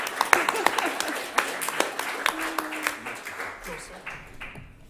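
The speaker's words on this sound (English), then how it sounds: "We need to clap for that too." Audience applause at a design talk on Earth systems, scattered claps rising briefly over a murmuring room and thinning out within a few seconds, with voices audible underneath.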